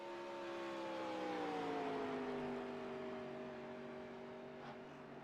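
A race car on a qualifying lap at Atlanta sweeps past, its engine note a rising then gradually falling whine that fades slightly as it moves away, heard alone without talk.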